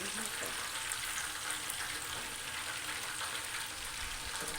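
Chicken pieces frying in oil just after being turned over, a continuous bright sizzle with fine crackling, steady and moderately quiet throughout, heard close with no voices.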